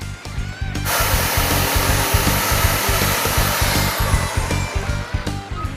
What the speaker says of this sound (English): get a Sawzall and cut this outrigger right there